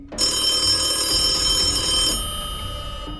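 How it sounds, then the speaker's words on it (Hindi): An old telephone in a red telephone booth rings in a horror tale, a loud bright trilling bell sustained for about two seconds, then fading to a softer tail over a low background hum. "अचानक टेलीफोन बजने की आवाज आई।"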